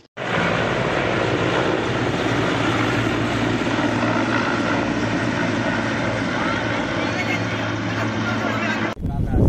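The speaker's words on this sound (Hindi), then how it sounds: "पीएम नरेंद्र मोदी के आने से पहले बिजनौर में उड़ने लगे हेलीकॉप्टर" Helicopters flying over Bijnor, India, ahead of a prime ministerial visit make a loud, continuous rotor and engine roar that fills the whole stretch and cuts off abruptly near the end.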